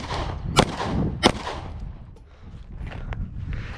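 Glock 48 pistol firing during a failure-to-stop drill: two sharp, loud cracks about two-thirds of a second apart, followed by quieter handling noise.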